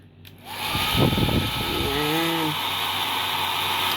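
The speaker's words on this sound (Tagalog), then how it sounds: "Mayroon din blower. Ayan. Gumagana rin to." A hotel room hair dryer blows with a steady whooshing motor hum that starts after a short pause and keeps running loud and close, with a voice briefly speaking over it.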